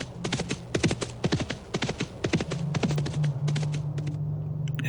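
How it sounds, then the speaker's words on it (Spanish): Rapid hoofbeats clatter in an uneven galloping rhythm close by, sharp clip-clop strikes that thin out toward the end over a low hum. "Escuchamos el galope de un caballo"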